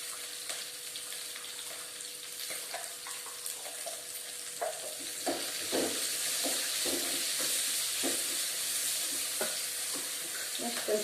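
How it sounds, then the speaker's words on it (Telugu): Onions frying with salt in a pan for poori curry, a steady broadband sizzle with scattered stirring clatters, growing slightly louder midway, no voices. "ఇప్పుడు మనం కొంచెం సాల్ట్ యాడ్ చేసుకుందాం, ఎందుకంటే సాల్ట్ యాడ్ చేయడం వల్ల తొందరగా ఆనియన్ ఫ్రై అవుతుంది"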